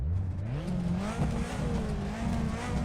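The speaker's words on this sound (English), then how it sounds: "That's a proper 4-cylinder turbo engine sound you want to hear from a rally car." A turbocharged four-cylinder rally car engine at the Goodwood Hillclimb revs hard, pitch climbing and holding with a raspy, continuous drone, loud and close throughout.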